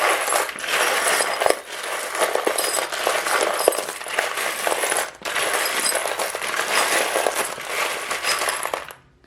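Small charms shuffled together in the hands, making a continuous dense jingling and clinking rattle with a couple of brief pauses, close by and without talk.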